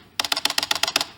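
Rapid keystrokes on a keyboard while typing a book, about ten crisp, evenly spaced clacks in a quick burst, close and clear.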